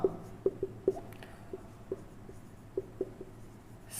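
Chalk or marker strokes tap and scratch on a classroom board in a loose series of short, sharp clicks, close by, during a maths lesson.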